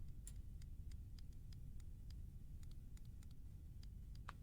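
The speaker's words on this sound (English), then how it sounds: "But can you hear those ticking?" A clock ticks faintly in the horror video game Layers of Fear, with irregular light clicks over a low, steady ambient hum and no voices.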